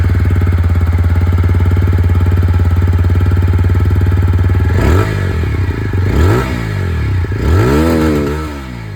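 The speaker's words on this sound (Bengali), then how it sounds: "আপনারা এখানে কিন্তু বুলপাপ এক্সস্টের আওয়াজটা শুনেছেন" A 2025 TVS Apache 160 4V Anniversary Edition motorcycle with a bullpup exhaust idles with a steady close thump, then takes three sharp throttle blips that rise and fall, loud and alone.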